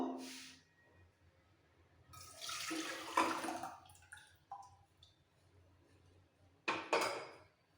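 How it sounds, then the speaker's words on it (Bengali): Boiled lentils are poured into a pressure cooker in a few separate close bursts of sloshing liquid and pot clatter, with quiet gaps between them and no talk. "এই ডাল সেদ্ধ করা কুকারের মধ্যে আমি সমস্ত ডালটা ঢেলে নেবো"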